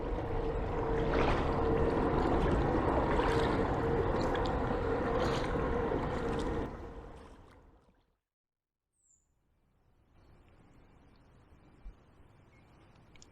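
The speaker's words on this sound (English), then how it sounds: "Just paddling along a little bit and then just stopping" Kayak paddling on a river near Grove Ferry and Fordwich, a steady watery wash and dip of strokes for several seconds, then the boat drifts to near silence before faint ambient water returns.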